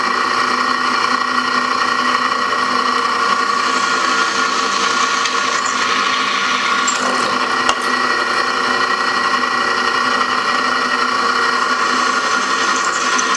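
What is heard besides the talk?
drilling holes in spring steel knife tang with 5/16 drill bit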